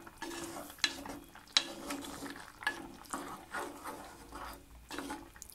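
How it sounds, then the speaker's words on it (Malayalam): Raw plantain curry being stirred in a clay pot, with repeated scraping strokes and soft knocks at an uneven pace, fairly quiet and close, with no voices. "അപ്പോൾ ഇടയ്ക്കിടയ്ക്ക് ഇങ്ങനെ ഇളക്കി കൊടുക്കുക."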